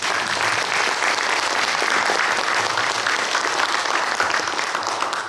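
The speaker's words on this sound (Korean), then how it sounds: "큰 박수 한번 부탁드리겠습니다" An audience at a Korean traditional music association's presidential inauguration ceremony in Daejeon gives a big round of applause, a loud, dense, sustained clapping that holds steady for over five seconds.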